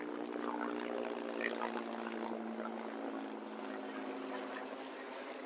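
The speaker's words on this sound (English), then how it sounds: "just an awkward helicopter flying above while I film a video" Helicopter flying overhead, a steady droning hum with a constant low tonal whine, moderately loud and continuous over the whole stretch without spoken words.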